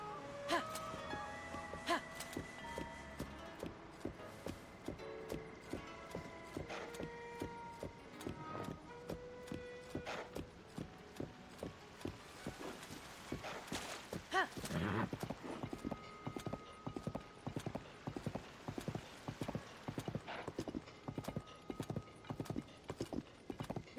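Horse galloping in Zelda: Tears of the Kingdom, a steady run of clip-clop hoofbeats with occasional snorts, set against game music and ambience.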